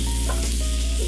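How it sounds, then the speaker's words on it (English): Peppers fry in oil in a pan over roughly medium heat while being stirred, giving a steady close sizzle with soft stirring scrapes and no talking. "we'll cook these peppers for about 5 to 7 minutes. Let them soften up somewhat."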